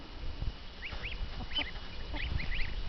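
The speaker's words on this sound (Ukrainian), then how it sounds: "Гусенята" Several goslings grazing outdoors peeping in quick, high chirps over a soft background, calls coming in short bursts.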